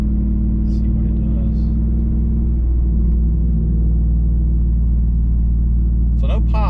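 Car with a modified exhaust coasting downhill in fourth gear off the throttle, giving a steady low droning deceleration rumble from the tailpipe, with no pops and a short voice near the end.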